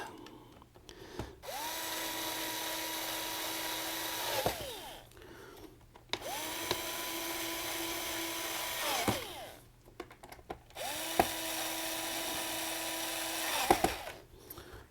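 Power screwdriver driving metal screws into the plastic housing of an iRobot Roomba S9+, three separate whirring runs of a few seconds each that rise in pitch and end with a click, with short pauses between them.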